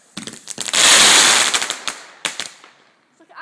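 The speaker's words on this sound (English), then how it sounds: "It's like an actual fire display." Fireworks bursting outdoors on bonfire night: a loud sustained crackling barrage of rapid pops, followed by several sharp separate bangs, then the noise tails off.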